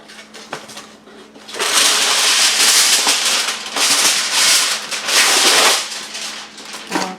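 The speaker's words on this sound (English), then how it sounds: "Let me tear the foil off." Aluminum foil is pulled and torn off its roll while covering a pan of smothered pork chops for the oven. The crinkling, ripping sound comes in loud, close bursts with brief pauses between them.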